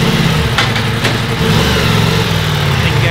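The engine of a 2023 Ducati Multistrada V4 Rally motorcycle runs loud and close with a steady, throbbing mid-pitched rumble and slight rises in revs, heard alone.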